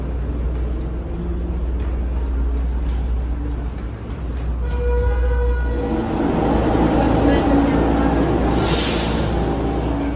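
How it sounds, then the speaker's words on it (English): A New York City subway train rumbles steadily nearby, with a rising mechanical whine, then a sharp hiss of air brakes; faint voices are heard under the noise. "as you can tell, we made it to the subway"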